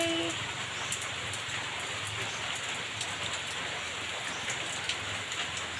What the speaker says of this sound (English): It's a rainy Sunday.